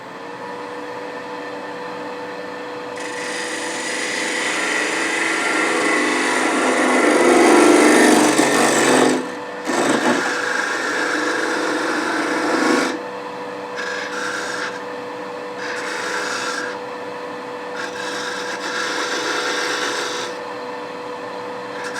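Bubinga wood is turned and sanded on a lathe, giving a loud, continuous rasping and scraping that swells midway, breaks off briefly, then resumes in shorter bursts separated by pauses.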